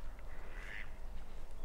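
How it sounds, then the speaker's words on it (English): Ducks quacking at Llangorse Lake, a brief burst of calls midway through, fairly faint and distant over steady outdoor wind rumble. "which features many ducks"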